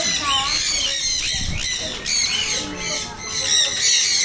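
A bird at an ocean park gives sharp, repeated squawks and chirps, fairly close, while people talk over and around it throughout.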